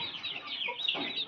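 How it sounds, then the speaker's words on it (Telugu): Young Bhimavaram breed cockerel chicks cheep in short, high, quick bursts, fairly close but quiet, with no voices. "ఇది కూడా పుంజు పిల్లే."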